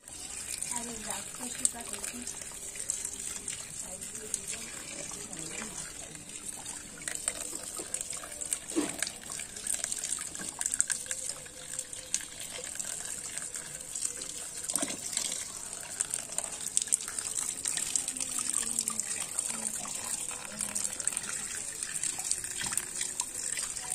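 Tap water pours steadily into a sink while freshly harvested winter mushrooms are washed, a continuous close gush with small splashes, and a voice talks over it at times.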